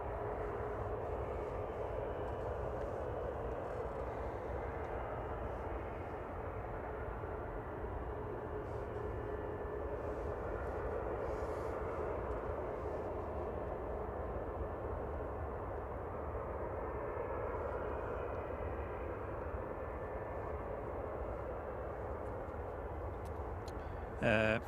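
Aircraft at Manchester Airport give off a steady, broad engine rumble that holds at an even level throughout, heard from a distance as a continuous drone.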